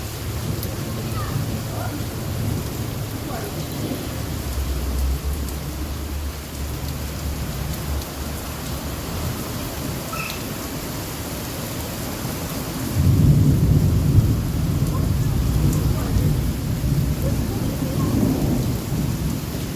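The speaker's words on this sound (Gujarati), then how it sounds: "છતાં ધીમી ધારે વરસાદ ચાલુ જ છે। કડાકા ભડાકા પણ થઈ રહ્યા છે।" Steady night rain falls over Gandhinagar city with thunder, a continuous hiss of rainfall and low rumbles building louder toward the end.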